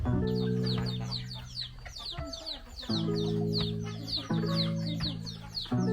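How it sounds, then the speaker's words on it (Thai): Native ornamental chickens on a farm: rapid, overlapping clucks and squawks from a close flock, loud and continuous over a steady low hum, with a voice talking underneath. "การเลี้ยงไก่ พื้นเมืองไก่สวยงามครับ"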